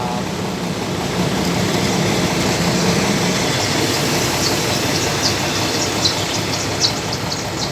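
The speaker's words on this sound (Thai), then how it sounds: "ขบวนรถเร็วขบวนที่ 102 ออกจากสถานีรถไฟชุมทางบ้านพาชีแล้วนะครับ" An express train rumbles steadily on the rails close by as it leaves Ban Phachi Junction station in Thailand, with a continuous clattering roar and faint high squeals from the wheels.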